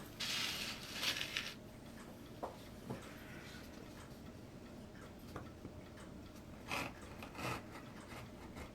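Sandpaper rubs against a piece of plexiglass in faint, intermittent scraping strokes, with a few short rasping bursts and soft clicks against a quiet background.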